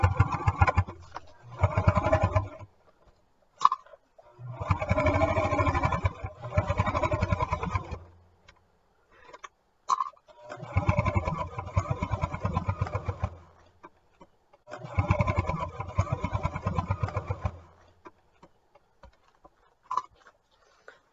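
A sewing machine back-stitches to reinforce a corner of a chair organizer bag, running in several short motorized bursts of steady whirring separated by pauses and light clicks, close and fairly loud.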